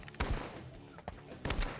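A Benelli shotgun fires during a dove hunt outdoors, giving a couple of sharp, loud reports about a second apart, each followed by a short echo.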